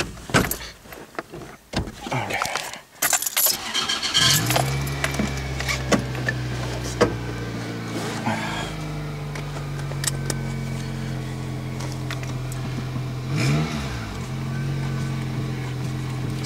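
A 1999 Toyota Corolla with a 1.8 engine is checked for a power steering noise. After some handling clatter and a door sound, the engine turns over and idles with a steady hum, and a brief whine rises partway through.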